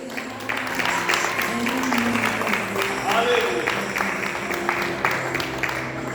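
Congregation clapping in a church service, steady and sustained throughout, with voices and music-like tones mixed in underneath.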